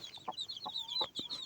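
Hens cluck close by in short bursts while their chicks peep continuously in thin, high chirps, all layered together with no talking.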